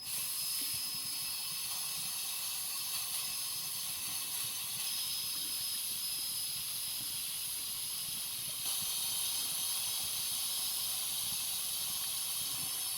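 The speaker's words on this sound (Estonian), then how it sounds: "Siis hakkab tulema siit auru." Steam hisses steadily from the lock valve of a pressure cooker as it is carefully opened after stewing, a loud continuous close hiss that swells slightly near the end, with no talking.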